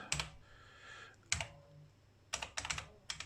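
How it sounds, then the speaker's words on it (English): Keys clack on an Amstrad CPC 464 keyboard as a command is typed in, coming in short bursts of close, crisp keystrokes separated by brief pauses, quiet overall with no voices. "Let's type in the command."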